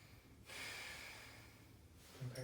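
A patient breathing in during a stethoscope lung check in a head-to-toe assessment, one long soft close breath lasting about a second and a half, quiet and alone, with a brief rustle at the end.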